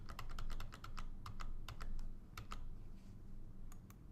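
A computer keyboard is tapped in quick bursts of crisp, close key clicks as a password is entered in payroll software, with short pauses between runs of keystrokes and no talking.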